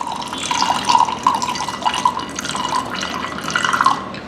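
Spicy mint jamun drink trickles into a glass over ice, a continuous light pouring and dripping sound with small splashes, close and fairly quiet.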